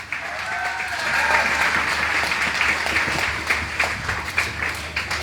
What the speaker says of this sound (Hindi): एक बार तालियां हो जाए जबरदस्त।